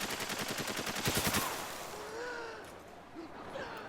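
Rapid bursts of gunfire from Spec Ops: The Line rattle loudly for about a second and a half, a dense rhythmic volley that stops abruptly, leaving a dusty ambient bed with faint whooshing tones.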